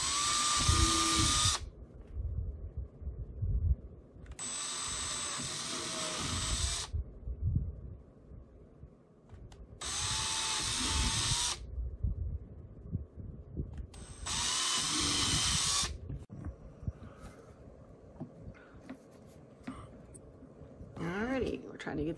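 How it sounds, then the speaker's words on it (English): A power drill bores holes while building a portable ham radio battery box, running in four whining bursts of a second or two each, separated by quieter pauses. "I'm going to drill the holes here."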